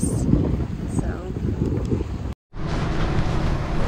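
Strong wind at about 20 knots with 30-knot gusts at a sailboat anchorage during a tropical storm, roaring broadband gusts buffeting the microphone, briefly cut off mid-clip before resuming just as loud.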